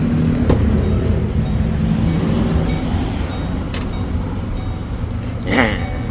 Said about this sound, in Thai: ต้องสตาร์ทเครื่องยนต์ดูก่อนนะครับ